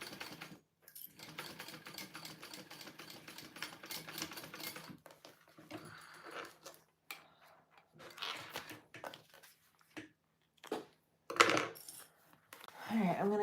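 A sewing machine with a low bobbin runs in a faint, quick, clattering stretch. Sparse ticks, clicks and light knocks follow, with pauses between them.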